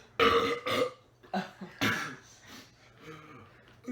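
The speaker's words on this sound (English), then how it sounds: "Every time I burp, I probably have." A young man lets out a string of loud, close burps, several throaty eructations in quick succession, with short pauses and soft breaths between them and no speech.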